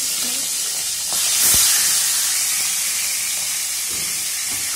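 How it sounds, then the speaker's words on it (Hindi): Pomfret fish frying in hot oil over low heat, giving a steady broad sizzle and hiss throughout, with a brief louder spatter near the middle and no talking. "अब हमारा तेल गर्म हो चुका है और हमने यहाँ पे डाल दिया है फिश, और इसको हम अब धीमी आंच में फ्राई करेंगे।"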